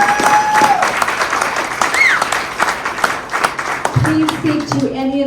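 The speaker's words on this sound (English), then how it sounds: "Let's give them another huge round of applause" Audience applause fills a meeting room, a sustained wash of many hands clapping at steady loudness, with voices and chatter mixed in and a voice rising near the end.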